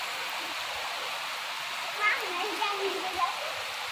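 Heavy rain pours down in a dense, steady hiss that runs unbroken throughout, with a few faint tonal sounds and a hint of voices underneath.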